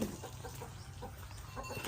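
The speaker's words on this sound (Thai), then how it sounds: "ไก่คุณตาเยอะเลย" Faint clucking from a flock of chickens comes through a low, muffled background, soft and distant with no clear voices.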